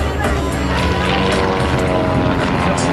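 A Mudry aerobatic airplane flies a half roll on a 45-degree line, its propeller engine droning loudly and continuously beneath a person talking.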